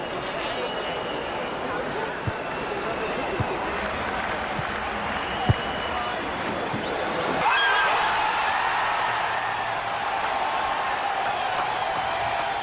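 Football supporters in a stadium crowd applauding and cheering, a steady dense wash of clapping and crowd noise with scattered sharp claps, swelling slightly louder partway through and continuing to the end.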